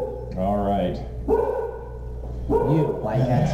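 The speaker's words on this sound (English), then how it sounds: "Excuse the dog." A pet dog nearby lets out a few short barks and whining whimpers in separate bursts, while someone talks casually over it indoors.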